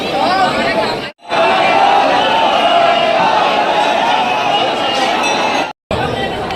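A dense crowd of devotees fills Brahmeshwarnath temple at Brahmapur Dham on Maha Shivratri, producing loud, continuous chatter and shouting close by, broken by two brief silent gaps.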